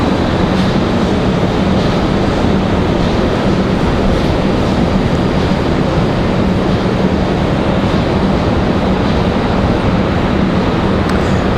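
A FedEx ATR 42-300 turboprop touching down at Raleigh-Durham airport, heard as a loud, steady broadband roar of engine and rushing air that persists unbroken throughout, with no voices over it.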